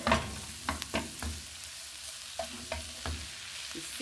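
Keto noodles stir-fried with white pepper and mixed spices, a soft sizzle under scattered scrapes and clatters of a utensil tossing them in the pan, close and fairly quiet with no voices.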